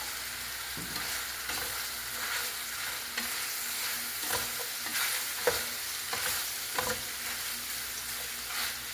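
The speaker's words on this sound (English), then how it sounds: "So now I'm going to put my potatoes in." Potatoes fry and sizzle in a pan over medium heat alongside smoked sausage, a steady crackling hiss with several scraping stirs and clinks of a utensil.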